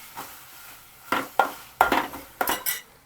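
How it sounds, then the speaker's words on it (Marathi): A metal spoon clinks and scrapes several times against a pan as a tomato goes into frying masala for Malvani prawn rice, in short, fairly close bursts with a faint sizzle between them. "त्याच्यामध्ये एक टोमॅटो टाकते मी"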